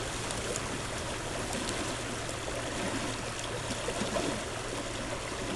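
A river rushes over a rock in a constant, full-band wash of flowing water, close and steady with no talking.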